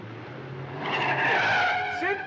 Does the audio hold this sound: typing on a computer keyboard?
no